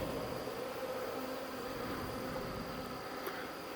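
A small honey bee swarm in the late evening gives off a constant, soft buzzing hum that stays fairly faint and steady, with no voices over it.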